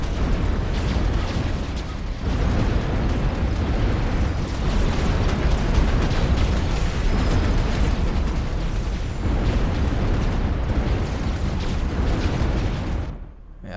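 Artillery fire and explosions in the real-time strategy game Ashes of the Singularity: a loud, continuous barrage of dense booming blasts and rumbling bursts that fills almost the whole stretch and cuts off abruptly at the end.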